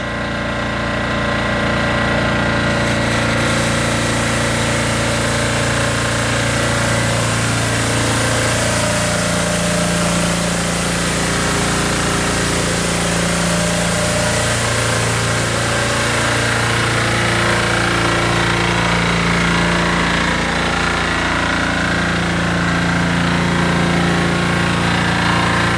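A Hino Dutro water sprinkler truck, 4-tonne with a 4,000-litre Kyokuto Kaihatsu tank, runs its auxiliary sub-engine: a loud, steady, droning engine hum with a pumping rumble that holds unbroken for the whole stretch, no voices.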